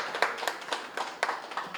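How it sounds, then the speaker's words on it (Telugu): An audience at a pyramid inauguration ceremony breaks into applause, a run of sharp, uneven hand claps coming in quick bursts across the whole stretch at moderate volume. "ఒకసారి గట్టిగా చప్పట్లు కొడదాం."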